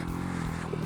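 A Honda CB125F, a small 125cc single-cylinder motorcycle, labours up a steep trail, its engine holding a steady, close, continuous drone under load for a brief stretch.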